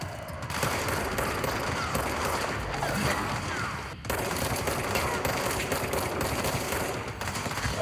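Sustained video-game gunfire, a dense continuous barrage of rapid shots with a brief pause partway through, loud and close with no speech over it.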